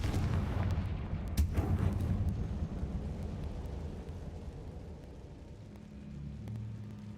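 A Confringo spell explosion in a Hogwarts video game lets out a deep booming blast with a rumbling roll that fades over several seconds, loud and close, with no speech.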